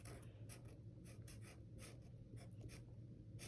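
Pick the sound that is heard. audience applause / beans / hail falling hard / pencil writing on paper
pencil writing on paper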